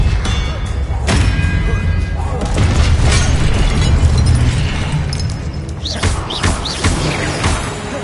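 A Confringo blasting-curse spell going off in Hogwarts Legacy: loud booming explosions and heavy thuds fill the scene, followed by shattering debris and bright chirping magic effects, with a voice speaking over part of it.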